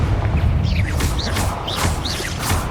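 Confringo fire spell cast in Hogwarts Legacy: a dense, loud stretch of crackling blasts and whooshing magical sweeps with rumbling low end, layered with busy combat effects throughout.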